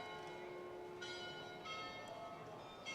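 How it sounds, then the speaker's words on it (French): A church carillon rings faintly in the distance, with clear, sustained tones that swell in a few separate strikes over a quiet background. "On a loupé la cloche."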